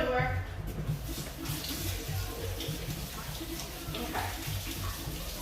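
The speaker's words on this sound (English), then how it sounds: "Let me go wash my hands real quick." Running water at a sink while someone washes their hands in a home kitchen, a steady broadband wash throughout, with a voice speaking briefly.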